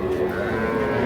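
A young bull calf at a cattle market gives a short, fairly close moo lasting about a second.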